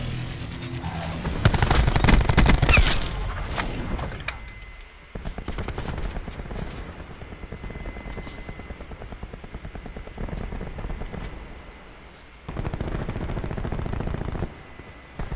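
Rapid bursts of automatic gunfire from the video game Black Ops 4 crackle in quick rattling volleys, loudest near the start, with pauses and a final burst near the end.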